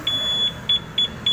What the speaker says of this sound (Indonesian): Ito yung sensitibo, konting galaw, mag-alarm.